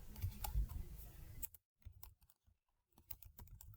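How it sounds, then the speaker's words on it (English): Rapid keystrokes sound on a computer keyboard while a spreadsheet title is entered. Close, crisp clicks come in quick bursts, stop for a short silent gap, then resume. "So in A1, I'm going to type net income comparison."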